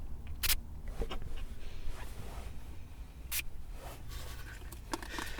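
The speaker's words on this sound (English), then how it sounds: "Let's hear the sound of the spray. Sea salt spray." A bottle of sea salt hair spray is pumped close to the microphone in a quiet room, giving two brief, sharp hissing spritzes a few seconds apart amid soft handling rustles.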